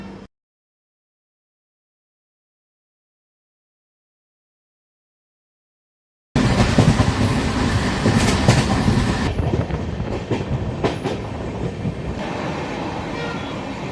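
After several seconds of silence, the Ajmer-Chandigarh Garib Rath, running with LHB coaches, rounds a curve near Ajmer Junction. Its loud, close rolling rumble and wheel clatter carry faint squeals.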